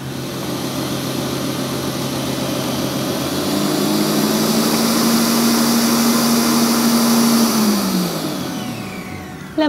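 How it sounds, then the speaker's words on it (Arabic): Stand mixer whipping cream with vanilla for a dulce de leche cake topping, a loud steady motor whir that rises slightly in pitch and then winds down near the end. "هجيب الكريمة وأبتدي أضربها في العجان، أحط معاها الفانيليا"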